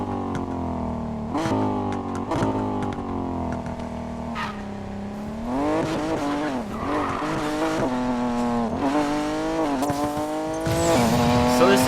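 A Nissan Hakosuka Skyline in Need for Speed Payback races with a loud, steady engine drone that rises and falls through gear changes, alongside repeated tire squeals and skids.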